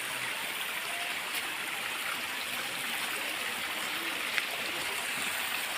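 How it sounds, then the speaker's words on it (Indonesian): A stream flows steadily in the open, its even rushing hiss running throughout at moderate level, with faint chirps and a brief click, no speech. "Suara air ya."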